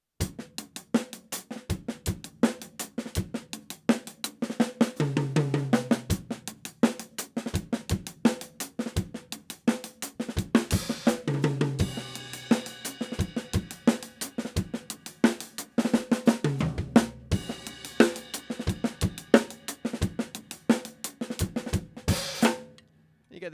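A drum kit plays a paradiddle-based groove with fills, a continuous run of dense, rapid strokes across snare, toms, kick and cymbals, loud and close with crashes ringing out at intervals.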